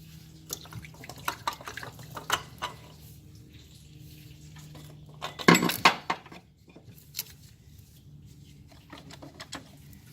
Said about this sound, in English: So I'm going to put the pry bar right here and just pry it out.